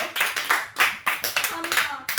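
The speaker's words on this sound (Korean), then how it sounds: "다들 박수 치세요" A small audience claps in a loose rhythm of about eight or nine distinct bursts, close and moderately loud, at a fan presentation about the K-pop group Mamamoo.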